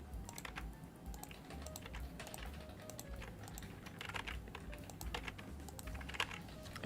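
Rapid, irregular typing on a computer keyboard placed right in front of the microphone, with crisp close key clicks in uneven bursts over a low background hum.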